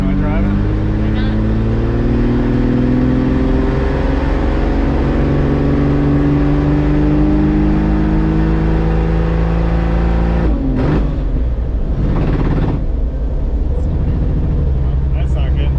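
A one ton swapped Jeep Cherokee XJ drives with its engine droning loud and steady, revving under the cabin, while people talk over it and a few clunks break in near the end.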